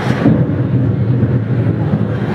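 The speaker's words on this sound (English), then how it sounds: "what say you about the thunder, Dusty?" Thunder rumbles loud and close during a stage skit set on a dark, stormy night, a continuous heavy roll with no voices over it.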